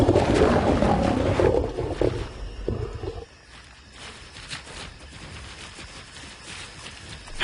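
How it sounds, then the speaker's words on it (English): Two male lions roar in the wild, deep rumbling bellows loud and close at first, then fading into quieter grunts and rustling ambience. "The other male responds, and his roars will not go unanswered."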